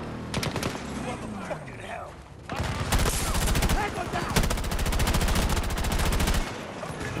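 Rapid full-auto gunfire in Battlefield 2042, first in short stuttering bursts, then long sustained streams of close, loud shots with a brief pause between, with faint voices in the background.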